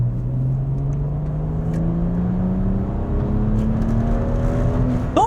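A BMW 135i E82 engine pulls hard under spirited road driving, its steady rising drone climbing in pitch through a sustained acceleration, loud and continuous with whirring road noise underneath.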